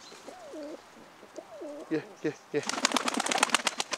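Tumbler pigeons coo nearby in a loft, giving two soft, rolling coos, followed by a burst of rapid fluttering and scratching noise. A voice makes a brief sound.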